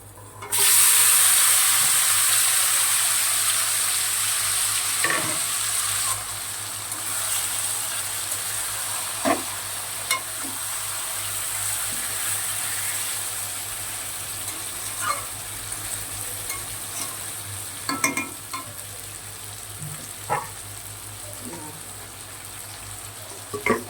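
Chicken marinated with ginger-garlic paste, salt, turmeric, chili powder and mustard oil hits hot oil in a pan, giving a sudden loud sizzling hiss that settles into a steady frying crackle with occasional pops and clatters.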